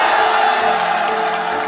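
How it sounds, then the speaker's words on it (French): Crowd cheering and applause roar steadily at close range after a presidential candidacy announcement, a dense wash of clapping and whoops with no break. "la nouvelle est reçue avec un tonnerre d'applaudissements"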